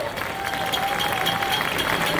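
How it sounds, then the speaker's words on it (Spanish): Audience applause fills the hall at an annual gala, a dense, steady wash of clapping at moderate loudness with a faint sustained tone running beneath it. "Un aplauso para Laura,"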